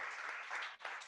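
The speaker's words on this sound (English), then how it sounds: "And hey, round of applause." Audience applause at a live tech talk, brief and fairly faint, a steady wash of clapping that dips for a moment near the end.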